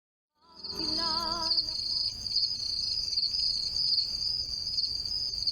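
A dense chorus of many crickets chirps loudly and steadily, a high continuous trill running throughout, with a brief lower voice-like sound near the start.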